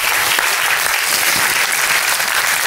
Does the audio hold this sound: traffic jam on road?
no